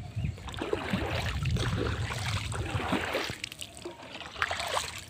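Choppy waves knock and splash against a small boat stalled in the middle of a big lake, a close, uneven wash of water with occasional louder slaps.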